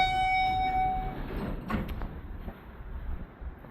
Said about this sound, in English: If the door will just open.